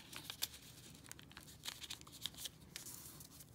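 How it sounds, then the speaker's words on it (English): Sheets of regular paper folded and creased for a snowflake craft, giving faint, scattered crinkles and rustles with a few sharper crisp snaps, close but quiet. "We're going to fold it in half again."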